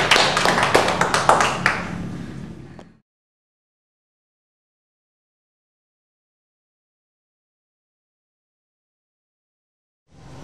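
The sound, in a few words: applause for group 1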